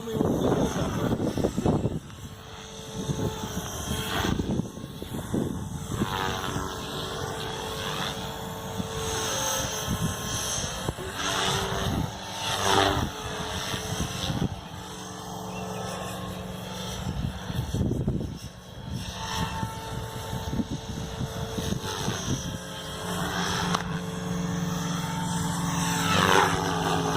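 Blade Fusion 360 6S RC helicopter flying 3D aerobatics in strong wind, its rotor buzz rising and dropping in sweeping pitch changes as it climbs, flips and dives, loud and continuous over gusts.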